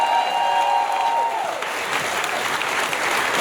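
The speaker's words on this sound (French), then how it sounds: "on peut les applaudir!" Studio audience applause on a French-language comedy talk show: loud, dense, continuous clapping with a brief tonal sound fading at the start, steady throughout.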